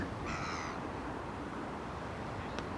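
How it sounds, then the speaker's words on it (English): A seagull resting on a Korean beach gives one short, harsh call over a steady wash of surf and wind, with a faint second chirp near the end. "we now have some very peaceful resting seagulls"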